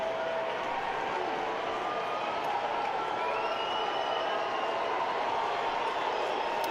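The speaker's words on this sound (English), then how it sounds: "Crowd is into it at SunTrust, as you would expect." A baseball crowd at SunTrust stadium in a Georgia Tech versus UGA college game, a steady broad roar of cheering and applause that holds evenly throughout without letting up.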